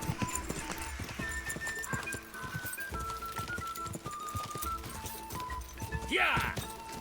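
Horse hooves gallop in Kingdom Come Deliverance II with a rapid, steady clip-clop rhythm close by, a horse whinnying near the end and a voice talking over the hoofbeats.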